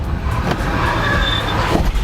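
A Honda Pilot SUV with an AWD system revving hard from a standstill, a loud, close engine roar with a rising whine over rumbling low-end noise throughout.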